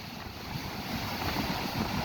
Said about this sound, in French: le vent, il est violent